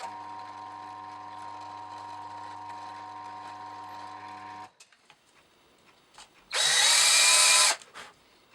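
Holes are drilled into small repair blocks for a Thule bag: a steady motor whine hums for several seconds, falls quiet, then a short loud burst of drilling follows.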